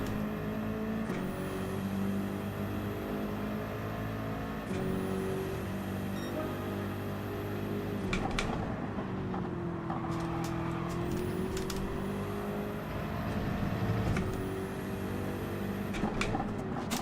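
A Group 3 race car in Gran Turismo 7 drones steadily at high revs around Brands Hatch GP, the pitch dipping and climbing through gear shifts and braking, with occasional clicks between.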